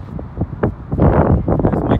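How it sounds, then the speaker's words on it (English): Gusty wind buffets the microphone with low rumbling bursts, growing stronger halfway through and blowing steadily to the end. "It's kind of windy"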